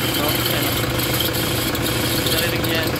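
A Toyota Fortuner with a 1KD-FTV D4D diesel engine idling close by, a steady loud rumble and hum, with aircon magnetic clutch noise under the engine sound.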